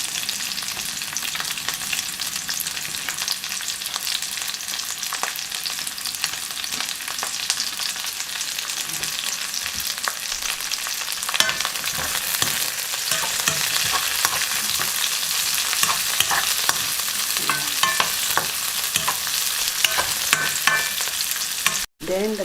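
Celery stalks and onion stir-frying in a pan, a steady close sizzle with frequent scraping stir strokes that builds slightly in intensity over time, no talk.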